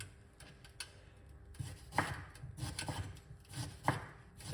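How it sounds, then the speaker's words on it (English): A knife cuts up ginger on a board in a run of close, crisp chops, irregular single strikes with a few louder thuds, quiet overall and with no voices. "I'm just cutting up the gingers"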